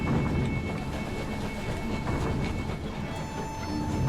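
A train passes in the video game Night in the Woods, a steady low rumbling roll with faint mechanical hum and a high whine entering toward the end, continuous and moderately loud with no voices.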